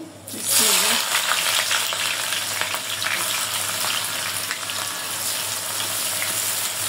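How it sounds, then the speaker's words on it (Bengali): About a cup of onions hits hot oil in a wok and erupts into loud, steady sizzling and crackling that continues close and unbroken, with a brief voice heard just before the onions go in. "কড়াইতে তেল দিয়ে দিছি, তেল গরম হয়ে গেছে, পেঁয়াজ দিয়ে দেবো 1 কাপের মতো।"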